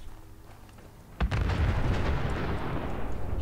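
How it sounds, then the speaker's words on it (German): A sudden loud explosion in the video game Fallout 4 bursts in after a quiet start, followed by a sustained rumbling roar and debris crackle that slowly fade. "Hinten wieder los, explodiert wieder alles."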